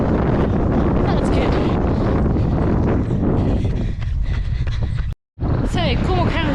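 Strong wind buffets a microphone outdoors during a long road training run in Cornwall. It makes a loud, constant low roar that drops out for a moment near the end, with someone talking over it.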